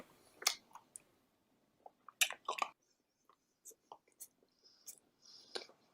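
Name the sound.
slurping and chewing while eating a bacon sandwich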